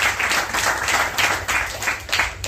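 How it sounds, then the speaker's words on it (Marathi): Students in an orphanage and old-age ashram applaud together at a first-birthday celebration. The clapping is steady and fairly loud, keeps its rhythm throughout and has no talking over it. "सर्वांचं एकदा आश्रमातल्या विद्यार्थ्यांनी टाळ्या वाजवून एकदा स्वागत करायचं।"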